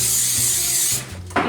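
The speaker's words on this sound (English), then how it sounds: "I have this olive oil spray here" Olive oil spray misted onto a sheet pan, a continuous close hiss lasting about a second, then a brief pause and a second short burst.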